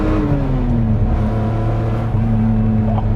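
A Lamborghini LM002 truck accelerates with a loud, close, steady engine drone that climbs slowly in pitch, then drops and resumes at a gear change, with no talking.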